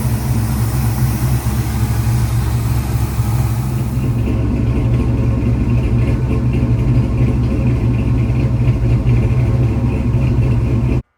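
A 1970 Dodge Charger engine, run again after 18 years of sitting, idles steadily with a loud, continuous low rumble and a slight misfire.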